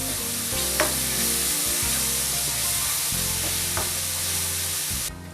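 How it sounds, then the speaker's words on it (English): Masala frying in oil and being stirred until the oil separates, a continuous close sizzle with spatula scrapes and a couple of sharp knocks against the pan, a low hum underneath, no talking. "Give it a good stir and keep frying until the oil separates."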